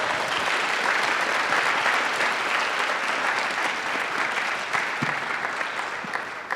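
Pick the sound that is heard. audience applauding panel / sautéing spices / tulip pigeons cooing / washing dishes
audience applauding panel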